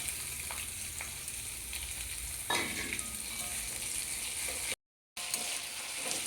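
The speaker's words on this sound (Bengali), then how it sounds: "পেঁয়াজটাকে খুব সুন্দরভাবে লাল করে ভেজে নেব।" Chopped onions, two large ones, sizzling steadily in hot oil with whole spices for a mutton keema curry, a close, continuous frying hiss with occasional stirring scrapes.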